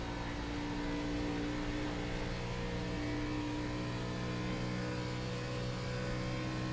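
Race car engine in the iRacing sim game running a lap at Auto Club's oval, a steady droning whir that holds at one level throughout, with no talk over it.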